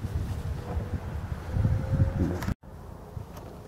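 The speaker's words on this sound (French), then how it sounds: "Ah voilà le vent." Wind blows across a vegetable garden planted with onions, a low rumbling gust that buffets the microphone for a few seconds, then cuts off abruptly and leaves a quieter background.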